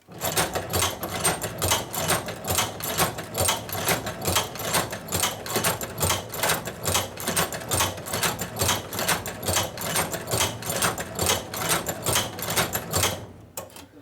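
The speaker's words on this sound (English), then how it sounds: "And now we can let go and the machine will continue sewing. So I'm going to sew down the length of this strap." A leather sewing machine stitching down the length of a strap, a fast, even mechanical clatter of repeated needle strokes, loud and close, running steadily for the whole stretch before stopping at the end.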